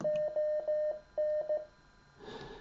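An MTR3B Mountain Topper radio sends a short Morse code message in clear, steady tones: several beeps of a single pitch, long and short, in a brisk rhythm, close and distinct, then a soft rustle near the end.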